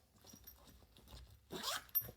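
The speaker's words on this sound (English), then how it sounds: "It zips it up, no problem." A zipper on a Decathlon travel backpack, either the Forclaz 40L or the Quechua 30L Travel 500 Organizer, is pulled closed in one quick, close rasping zip near the end, after quiet handling noises.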